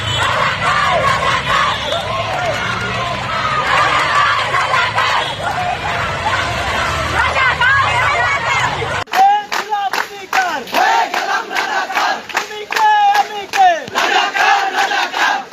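A large crowd of protesters at Dhaka University shouts rhythmic slogans together, loud and dense for several seconds, then breaks into sharp, pulsing chant bursts with distinct repeated calls.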